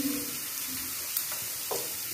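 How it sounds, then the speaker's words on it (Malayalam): Onion and coconut pieces sauté gently over a low flame for a shellfish roast, a quiet, steady sizzle with a couple of faint stirring scrapes. "ചെറുതീല് നന്നായിട്ട് വഴറ്റിയെടുക്കുക"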